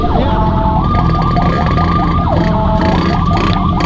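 An ambulance siren wails loud and close in a traffic jam with a motorcycle escort, rising and falling in quick repeated sweeps over a heavy engine rumble.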